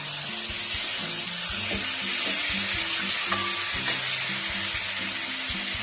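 Masala frying in oil for a katla fish curry, a steady close sizzle across the whole stretch with occasional scraping stirs and no voices.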